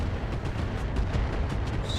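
A rapid barrage of missiles fired from a mech in the BattleTech RogueTech game, a dense continuous rumble of overlapping launches and booms with no pauses for the full two seconds.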